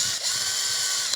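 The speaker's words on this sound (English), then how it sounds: "we're gonna go ahead and drill the first hole" A power drill bores a hole into a wall for mounting a heater, giving a steady, close whirring and grinding drone that holds for just over a second with a brief dip near the start.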